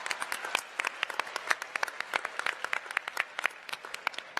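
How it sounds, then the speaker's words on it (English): Audience applause at a Lake Braddock Secondary School event, a moderate-sized crowd clapping with distinct individual claps throughout, steady and fairly close, without talk. "Give all of yourselves a round of applause."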